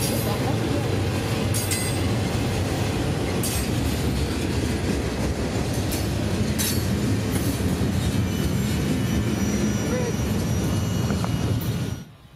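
A long freight train rolls past close by on the railroad tracks, a loud steady roar of wheels and cars with faint clicks and squeals, cutting off abruptly at the end.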